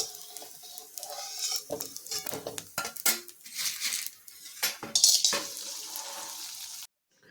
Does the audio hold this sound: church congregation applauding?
no